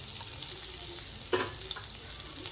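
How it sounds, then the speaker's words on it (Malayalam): Cumin seeds sizzle in hot oil in a pan while stuffed capsicum is being made, giving a steady, close crackling hiss with one brief louder pop partway through. "എണ്ണ ചൂടായിട്ടുണ്ട് കേട്ടോ. നമ്മൾ കുറച്ച് ജീരകം ഇട്ട് കൊടുക്കാം."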